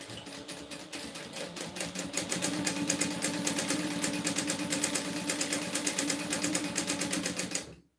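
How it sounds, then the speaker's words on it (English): Steady, fast rhythmic whir of a sewing machine top stitching fabric car trash cans, running continuously for several seconds at moderate volume before stopping abruptly. "now I'm going to top stitch these."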